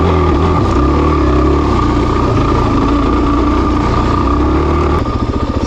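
A Suzuki DRZ400 enduro motorcycle engine runs loud and steady on desert trails in the Mojave, a continuous close drone that shifts to a pulsing, lower chug near the end.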